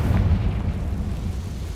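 A heavy, booming fire-spell explosion in the video game Hogwarts Legacy, a loud low-pitched blast with rumbling decay that fades over about two seconds, heard alone without talk.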